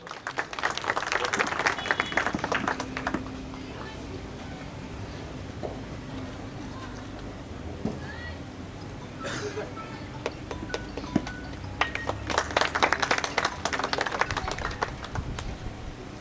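A crowd claps at a ceremony starting RCC road work in Nari village, Bhavnagar. Two fairly quiet bursts of applause rise over a murmuring background, one at the start and one near the end.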